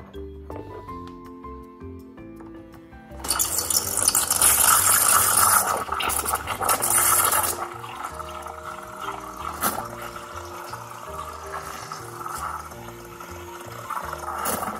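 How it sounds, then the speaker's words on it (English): An espresso machine steam wand froths milk, a loud hissing, gurgling rush that swells after a quieter start, then settles into a steadier, softer bubbling hiss. "so we now can froth up our milk."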